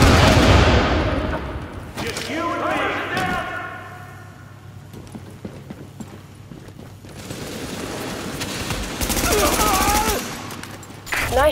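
Gunfire in The Division at Pier 93 and the Powerhouse: loud, rapid automatic bursts open the clip and return later, mixed with thuds and a voice talking between volleys.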